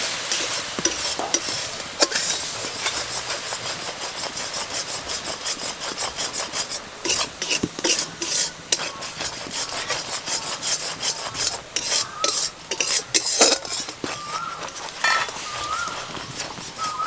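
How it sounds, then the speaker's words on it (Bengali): A spoon scrapes steadily around a pan of thickened milk being stirred for Bengali mishti doi, a continuous close rasping and swishing with faint sizzling and no talk. "দুধটা দেওয়ার পর এভাবে ফুলে যাবে, সঙ্গে সঙ্গে নেড়ে নেবে"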